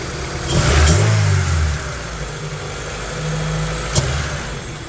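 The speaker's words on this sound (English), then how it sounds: "I want to see what happens if I give a little throttle first." A Honda Civic EF sedan engine idles, then swells through a brief throttle blip and settles, followed by a second gentler rise and a sharp click near the end, heard up close.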